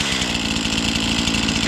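An Echo CS-490 chainsaw engine runs just after being started by a cord pull, a steady, loud, buzzing two-stroke drone heard close by.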